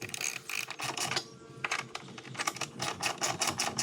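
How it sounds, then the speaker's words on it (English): A wrench loosens the bolts on a Hepco & Becker Xtravel luggage rack fitted to a Tiger 850 Sport motorcycle, producing a quick run of rhythmic metallic ratcheting clicks with a brief pause midway, close up and without speech. "All right, let's get some wrenches and get them off. Okay, just gonna break that one loose."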